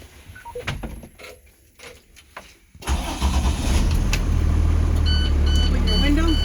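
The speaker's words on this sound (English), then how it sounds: "Turn on your bus." A school bus engine cranks and catches after a few quiet clicks and knocks inside the cab, then settles into a loud, steady rumbling idle with some faint beeps over it.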